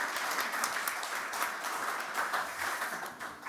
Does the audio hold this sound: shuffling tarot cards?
no